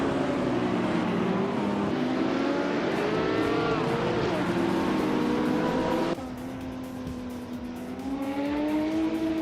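A 1971 Porsche 917 LH race car in a racing video game, its engine a loud sustained drone with shifting pitch as it revs, briefly dropping in level before climbing again.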